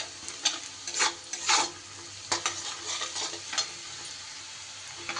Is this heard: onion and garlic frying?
yes